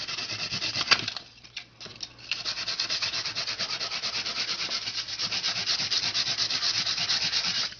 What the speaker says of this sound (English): So I lightly sanded it, just very light, just to get a little bit of the white showing.